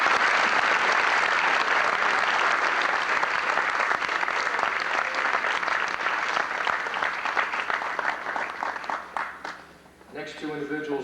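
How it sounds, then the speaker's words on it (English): Loud audience applause fills the room, thinning out near the end as a voice begins speaking. "I think we ought to give your parents a round of applause."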